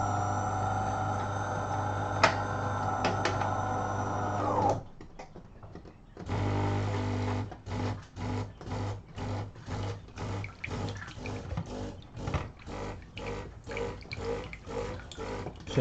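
A DeLonghi Autentica Cappuccino ETAM 29.660 bean-to-cup coffee machine hums steadily while heating up, falls nearly quiet, then rinses with a run of rhythmic pump pulses and gurgling water spurts.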